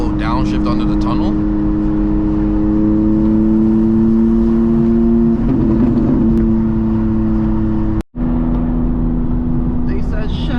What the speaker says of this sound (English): Little downshift under the tunnel.